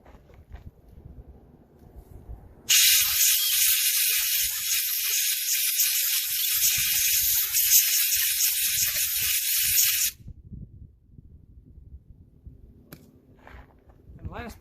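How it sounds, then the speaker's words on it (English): A loud, steady blast of compressed air from an air hose hisses for about seven seconds while cleaning a corroded RV trailer plug, starting and stopping abruptly, with quiet clanks and handling noises before and after. "I'm going to blow it out with the air hose."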